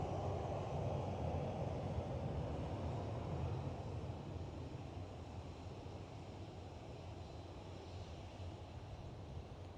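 A Transavia Boeing 737 airliner at Amsterdam Schiphol gives a broad, steady jet roar that stays loud and then slowly eases, heard from a distance outdoors with wind-like rushing and no talking.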